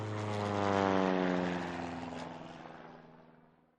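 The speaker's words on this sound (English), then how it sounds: "Plane, says Honey. Zoom, zoom." A propeller airplane drones past overhead, its steady engine hum swelling loudly then gradually fading as it moves away.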